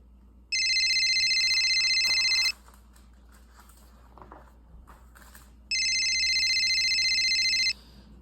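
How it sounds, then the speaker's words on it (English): A telephone rings in two long electronic bursts of about two seconds each, separated by a pause with faint room noise, loud and close. "Just when the phone rang"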